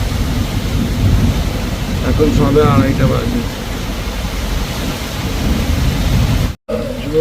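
Heavy downpour with low rumbling thunder, a continuous close wash of rain noise with deep rolling undertones, while a person speaks briefly over it.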